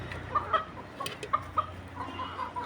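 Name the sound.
chickens clucking while being fed greens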